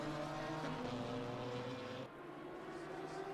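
An Aston Martin GT4 race car in a racing game hums with a quiet, droning engine tone that drops in pitch at a couple of moments, like gear changes, then carries on at a lower note.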